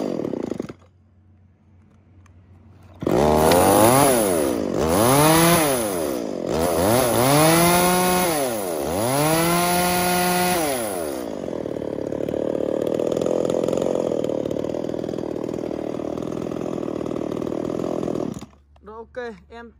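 A Tanaka 3352s 33cc chainsaw starts up and runs loud and close: repeated revving surges rise and fall, then the engine settles into a steady idle for several seconds before cutting off, with someone briefly talking.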